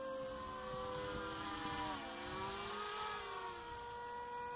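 Quadcopter motors with forward-tilting mounts run steadily at about 40% throttle, a loud continuous whine with layered tones that waver and shift slightly in pitch throughout, no voices.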